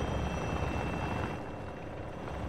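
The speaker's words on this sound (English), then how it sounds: "Not the helicopter." Helicopter in the Call of Duty DMZ game with steady, loud rotor thumping and engine roar filling the whole stretch, close and continuous, easing slightly midway.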